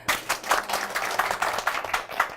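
Audience at a Korean book forum author event claps for three MCs, a steady round of many hands at moderate level, with individual claps pulsing through the wash and no one speaking.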